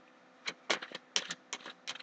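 Tarot cards are shuffled in quick, uneven bursts of crisp flicks and snaps, close and fairly quiet against a hushed background.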